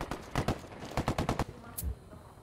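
Automatic gunfire from Ghost Recon Wildlands in a tight rapid string of loud shots, two quick bursts close together, followed by a softer thud as it falls quiet.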